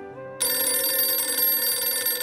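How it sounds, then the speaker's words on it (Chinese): A telephone bell starts ringing abruptly after a short low hum, a loud, bright, continuous trilling ring that carries on steadily to the end. "电话铃声响起"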